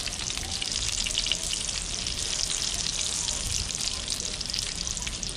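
Spanish mackerel pieces fry in a pan with a steady, dense crackling sizzle that stays even and close throughout, with no voices over it.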